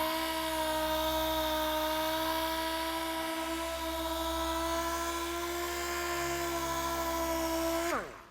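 A dual-action sander with 3000-grit paper works flat painted bodywork, giving a steady high, whining hum that holds for about eight seconds and then cuts off abruptly.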